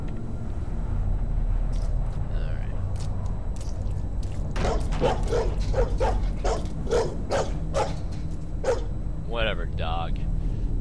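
A dog barks repeatedly in the horror video game Condemned 2: Bloodshot, a run of sharp barks in quick succession followed by a couple of whining yelps, over a steady low background hum.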